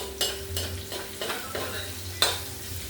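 A spoon stirs chicken curry with carrots and potatoes frying in a pan, a soft steady sizzle broken by a few rhythmic scraping strokes, close and fairly quiet with no talk.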